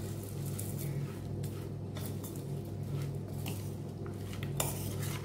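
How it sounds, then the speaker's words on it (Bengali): Jhalmuri puffed rice snack being mixed in a bowl, soft continuous rustling and light clinks of a spoon against the bowl, quiet and close with a low steady hum underneath. "এবার এটা ভালো করে মিশিয়ে নিয়ে"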